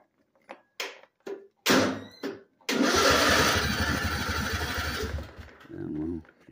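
Tractor engine with a PTO being restarted: a few short clunks, then the motor catches and runs steadily and loudly before cutting off near the end.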